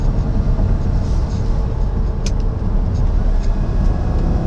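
A Lamborghini Gallardo V10 with its stock exhaust and gated six-speed rumbles in a low, steady drone, close and fairly loud with road noise around it.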